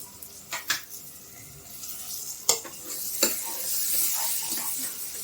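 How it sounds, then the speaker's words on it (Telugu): Coriander and mint leaves frying in oil in a pan for fried rice, with a steady soft sizzle and a few sharp stirring scrapes of a spoon against the pan, close and fairly quiet. "ఇవి కూడా మంచిగా అన్ని కలిపి మంచిగా వేగాలి"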